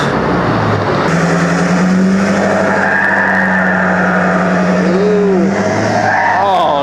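Ford Powerstroke diesel trucks, 6.0 and 6.7, with 4-inch and 5-inch turbo-back exhausts, roar loud and close in a steady sustained drone with a rising whistle near the end.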